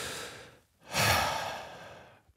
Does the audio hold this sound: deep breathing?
yes